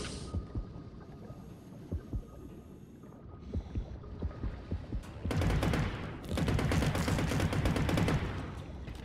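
Bursts of gunfire from a shotgun-style weapon in the underwater shark game Depth, a rapid run of shots rising to a loud, sustained volley over muffled, watery game ambience.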